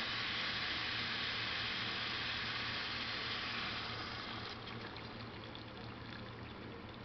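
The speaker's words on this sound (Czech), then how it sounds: "A teď přileju vodu." Water pours steadily into a pan of cooking chicken for a Czech-style chicken perkelt stew, a continuous close splashing fill that softens slightly toward the end, with no talk.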